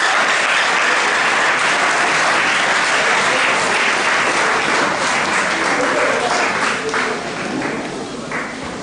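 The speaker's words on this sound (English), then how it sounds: "Clap now, clap, clap." A crowd at a marriage ceremony claps loudly and continuously, the applause thinning and fading slightly toward the end.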